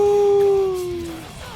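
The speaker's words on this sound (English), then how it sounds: "putting the wolf howl on a spammable ability was a dumb idea" Darius's wolf howl ability effect from League of Legends: a single loud, clear howl that holds a steady pitch, then slides slightly downward and fades out within about a second and a half.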